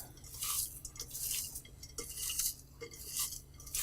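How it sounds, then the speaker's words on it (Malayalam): Sliced onions are worked together with salt by hand, giving soft wet squishing and rustling sounds in a repeating rhythm of close, moderately loud bursts, with no talking. "ആവശ്യത്തിന് സോൾട്ട് ആഡ് ചെയ്ത് നന്നായിട്ട് കൈകൊണ്ട് ഇതുപോലെ മിക്സ് ചെയ്യുക"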